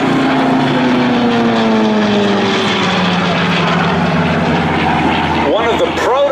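A Curtiss SB2C Helldiver propeller dive bomber roars past at an air show open house, loud and close, its engine drone falling in pitch as it passes, with a faint voice underneath.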